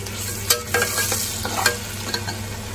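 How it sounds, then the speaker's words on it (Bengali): Onion and garlic paste frying in a pan for a chicken curry, a close, steady sizzle with stirring scrapes and a few sharper crackles, no speech over it. "তো দেখো মোটামুটি ভাবে ভাজা আমার হয়ে গেছে, আর ভাজবো না।"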